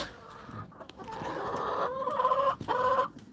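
Several chickens cluck and murmur nearby in a continuous overlapping chorus, with sustained tonal calls rising near the end, set against light farmyard background noise.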